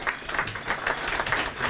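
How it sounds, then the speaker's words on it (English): A short burst of audience applause at a media awards ceremony, a steady wash of many hands clapping together at moderate loudness for a couple of seconds, with no voices on top. "How about a big round of applause, Mr. Carl Magno?"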